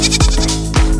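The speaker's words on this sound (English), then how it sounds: "G for goat." Goat bleating, two short loud wavering cries close to the listener, alone with no talk.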